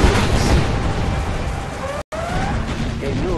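Rocket barrage explosions thunder in Command & Conquer Generals, a dense run of booming bursts and pops that fills the clip at close range, with a brief dropout midway and a few whistling streaks over the blasts.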